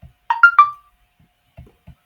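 A phone plays a short three-note rising chime as it is put on charge, bright and clear, followed by a couple of soft low thumps.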